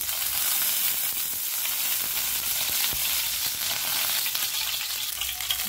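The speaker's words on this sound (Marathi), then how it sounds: "तर चला ते आपली कढई जी आहे ते गरम झाली आहे" Hot oil sizzles steadily in a kadhai heated for frying fish, a dense continuous crackle with occasional stirring scrapes, close and fairly loud with no voices.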